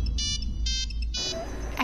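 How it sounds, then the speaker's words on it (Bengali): A mobile phone ringtone plays in short repeated electronic bursts, loud and close, over a low indoor hum, stopping after a few pulses. "এখন আবার কে ফোন করলো?"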